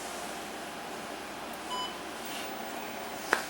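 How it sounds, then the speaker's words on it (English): Zenith Z-19 serial terminal (Heath H-19) powering on, giving a short, faint electronic beep over a quiet room hum, followed by a sharp click near the end. "we heard a beep when we powered the thing on"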